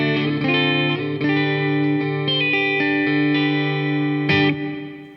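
Sustained electric guitar chords through a Kemper PowerHead profiler with reverb ring out with a lush, echoing wash, a few changes and a strummed accent near the end, no talking.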